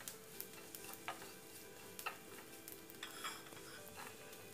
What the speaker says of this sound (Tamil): நம்ம தாளிக்கும் போது நம்ம கொஞ்சம் சாம்பார் தூள் போட்டு தாளிச்சுக்கலாம்.